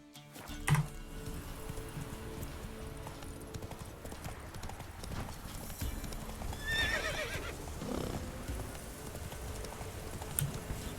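Roach, Geralt's horse in the video game Witcher 3, trots with quiet, steady hoof clip-clops. A brief whinny sounds near the start, all at low volume.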